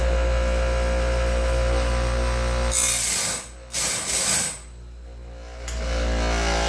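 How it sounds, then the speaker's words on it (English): A semi-coarse grinding wheel bites into a sawmill blade tooth, a loud close hiss-roar laid over a steady motor drone, cutting out briefly and returning before fading back to the idling hum. "I'll grind a tooth and I'll show you."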